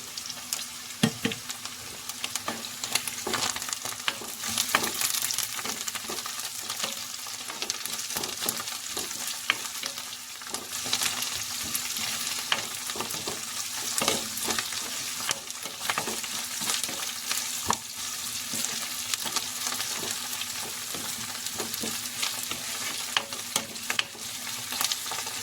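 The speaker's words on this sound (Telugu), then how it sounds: "ఇప్పుడైతే దంచుకున్న అల్లం వెల్లుల్లి, దానిలో కరివేపాకు," Crushed ginger, garlic and curry leaves fry steadily in hot oil, giving a dense, continuous sizzle with occasional crackles and stirring scrapes, close and loud throughout with no talking.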